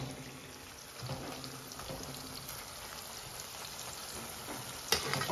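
Green chillies roasting in oil over a low gas flame, a faint steady sizzle and crackle throughout, with a single soft knock near the end.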